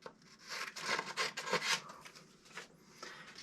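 Ski binding mounting template being trimmed by hand, a few seconds of close, dry rasping and rubbing strokes in quick bursts, alone without speech.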